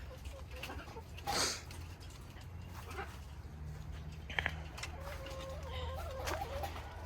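Chickens cluck and call intermittently at close range over a steady low hum, with a sharper squawk early on and brief chirps later.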